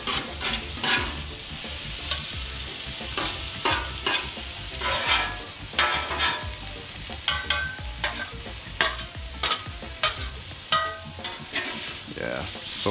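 General Tso chicken fries in oil on a Blackstone flat top griddle, a steady close sizzle broken by repeated scraping and stirring strokes of a spatula.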